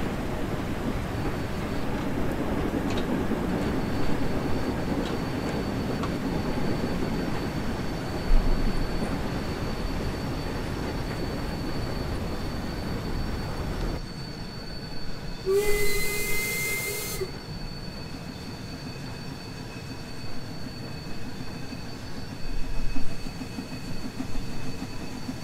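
A vintage steam locomotive runs in the Train Sim World game, with a steady hissing, rumbling chug throughout and a shrill steam whistle blast sounding for a couple of seconds midway.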